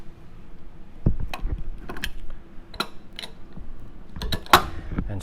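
Metal parts click and creak as a wrench tightens and seats the orifice on a Model 143 gas regulator, a close series of irregular ratcheting clicks and scrapes over a few seconds.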